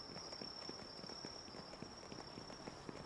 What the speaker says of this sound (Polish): Ja słyszę z kolei świerszcze.